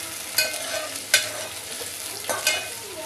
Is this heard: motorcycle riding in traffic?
no